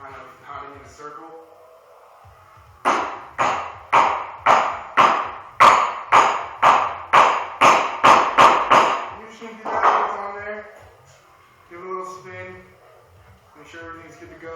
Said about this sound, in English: Just going to pound that back on yet again nice and evenly, rotating the hits, so, kind of pounding in a circle.